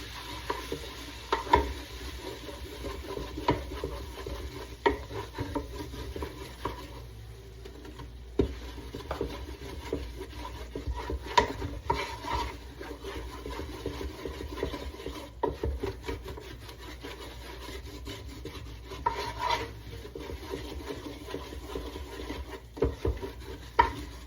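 Flour is stirred into a sauce for a Cajun crab and shrimp mac and cheese in a Ninja Speedi, giving soft, quiet, repeated scraping and rubbing strokes of a spoon in the pot.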